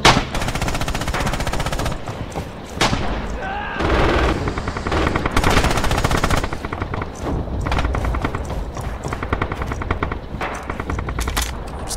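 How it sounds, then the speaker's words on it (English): Dense rifle and automatic gunfire in the World War II shooter Rising Storm/Red Orchestra 2, a continuous barrage of cracks and bursts with explosions behind, loud and close, with a faint voice among the shots. "I hear his rifle."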